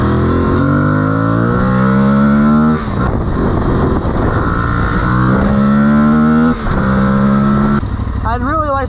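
An Aprilia Tuareg 660 motorcycle in urban mode revs close and loud toward nearly 10,000 RPM in repeated climbing pulls, each rising pitch falling back before the next rev.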